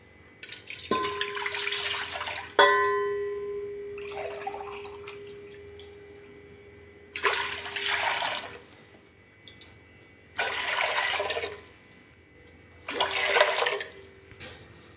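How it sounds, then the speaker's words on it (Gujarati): Water poured from a lota into a large pot for rice papad, four separate gushing pours with a long ringing splash between, close and loud with quiet gaps. "વાસણમાં સૌથી પહેલાં તો આપણે ચાર લોટા પાણી એડ કરીશું"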